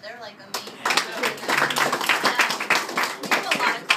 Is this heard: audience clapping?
yes